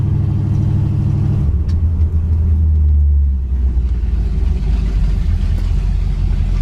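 A 1981 Pontiac Trans Am with straight-pipe exhaust idles at a stop sign around 500 to 600 RPM, giving a steady, loud, deep rumble with a slight lope, close by and without talk.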